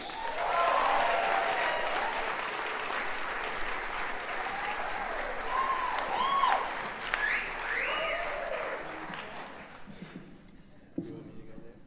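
An audience applauds and cheers for a young singer at an evening concert with a band: dense, steady clapping with whoops and shouts that fades out toward the end.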